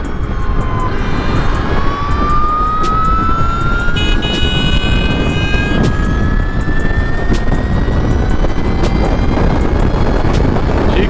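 Energica EVA EsseEsse9 electric motorcycle accelerating, a steady loud whine rising smoothly in pitch over about eleven seconds, layered over constant rushing wind and road noise, heard up close from the rider's position.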